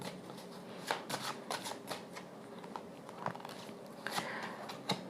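Tarot cards being shuffled by hand, a run of soft, quick riffles and flicks close by, fairly quiet, with no talking.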